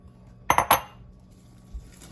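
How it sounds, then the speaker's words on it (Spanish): A metal utensil clinks three quick times against a pot as popcorn is added and stirred into boiling cream for popcorn and marshmallow treats, followed by a soft dull knock; no voices. "Entonces ahora le voy a agregar las palomitas de maíz."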